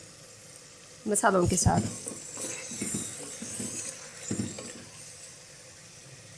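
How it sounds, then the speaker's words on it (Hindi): Onion and spice masala (chilli powder, garam masala) frying in a pan for chicken shami kabab, a steady close sizzle with stirring scrapes at the start, a voice talking over it. "अब इसको तकरीबन 7 से 10 मिनट के लिए फ्राई कर लेंगे"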